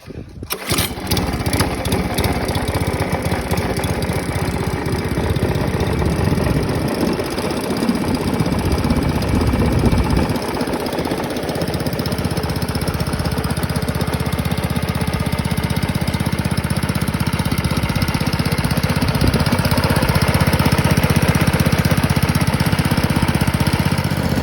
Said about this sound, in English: put some fuel in it and fire it up and just have a look